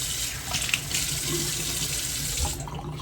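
Potatoes washed under a running kitchen tap, a steady close splashing rush of water with small clatters as they are rubbed and turned, alone and without talk.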